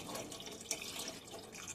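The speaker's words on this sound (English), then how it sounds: "Alright, so we're going to add our water." A quart of plain water pours steadily into a pot of turkey noodle soup, a continuous faint splashing trickle with one small slosh partway through.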